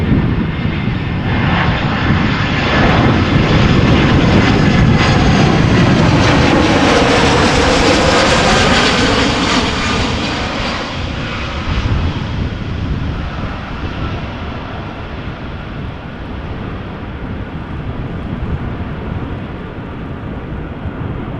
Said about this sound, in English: EasyJet arriving from London Gatwick, flight time 46 minutes.